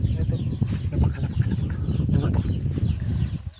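Chickens out on a walk through an outdoor area, heard as dense low clucking and scratching noises with busy rustling, fairly loud and close, with faint voices mixed in.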